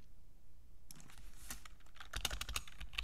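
Computer keyboard typing while writing HTML code in PowerApps, starting after a near-silent first second, then a steady run of close, crisp keystrokes that grows denser and louder toward the end.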